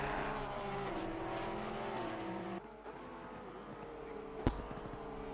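Race cars lapping a track during a team battle give a continuous droning engine roar that shifts in pitch as cars pass, with a brief sharp knock near the end.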